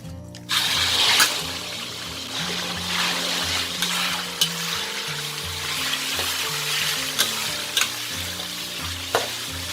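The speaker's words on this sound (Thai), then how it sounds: "ใส่หมูลงไปทอดเลยค่ะ" Pieces of pork frying in hot oil in a pan over medium heat, a steady loud sizzle running throughout with occasional sharp pops and spatters, no talking.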